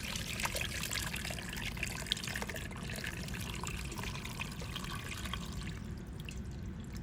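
Brine pours into a crock of fermenting kosher dill pickles as a quiet, steady trickle of liquid, running continuously with no voices.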